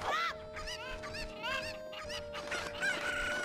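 Chickens cluck and a rooster crows in Zelda: Ocarina of Time on the N64, with bright repeated game-style bird calls over a faint steady tone and no talking.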